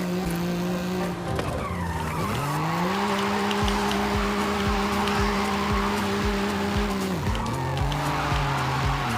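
Car drifting in the Forza Horizon 5 racing game, with a loud, sustained engine drone and continuous tire squeal that shifts pitch around gear changes and throttle lifts, running throughout without talk.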